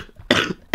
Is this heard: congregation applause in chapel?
no